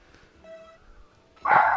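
A dog gives a loud, short burst of barking near the end, after a brief steady electronic tone and some faint background murmur.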